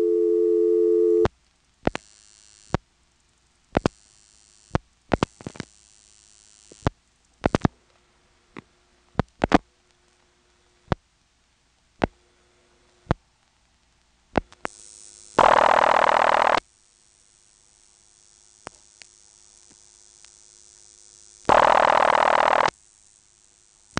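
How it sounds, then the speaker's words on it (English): Mechanical switching clicks and clacks of a 1970s step-by-step telephone exchange with directors in quick irregular bursts, interrupted by a low tone and two loud buzzing signal tones on the line. "you can hear normal step noises on the last few digits"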